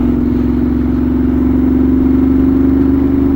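A Ducati Monster 1200 R's engine hums steadily at low revs while riding, a smooth, even drone that stays loud and unchanging, with no voices over it.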